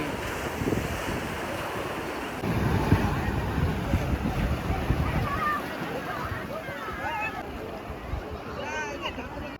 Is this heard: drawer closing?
no